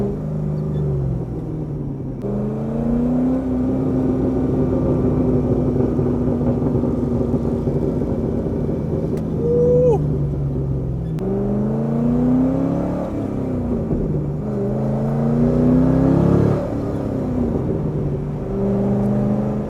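A Chevrolet Corvette C6 engine revs up and settles several times close by, with a steady loud rumble between the rising blips and possible exhaust pops; no one speaks.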